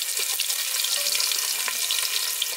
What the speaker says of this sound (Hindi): घी हमारा गर्म हो गया है इसी में डाल देते हैं तड़का। तड़का को तड़का लेंगे हम, यहीं पर हम 1 कटा हुआ प्याज डाल देंगे इसमें।